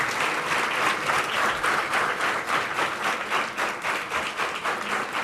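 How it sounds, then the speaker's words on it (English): A felicitation audience claps without pause, a dense and fairly loud wash of hand claps in a pulsing rhythm, with no speech. "Let the claps not stop."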